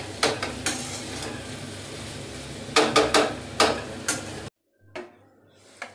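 Chow mein is stir-fried in a pan with a steady sizzle, broken by repeated sharp clacks of a utensil against the metal in quick bursts. The sound cuts out abruptly, then a couple of faint knocks follow.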